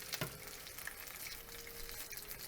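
Apple loukoumades dough balls bubble in hot oil, a soft, even frying fizz heard faintly for a couple of seconds with no talking.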